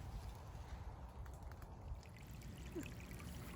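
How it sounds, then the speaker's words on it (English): A creek flows steadily on a rural home property, a continuous low watery rush with faint trickling and no voices. "having the creek is a big plus. It's just not only the sounds"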